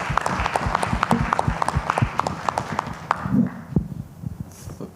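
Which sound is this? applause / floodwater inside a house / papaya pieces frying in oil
applause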